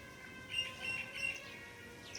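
Faint, high bird chirps repeat a few times over a soft, steady background hum.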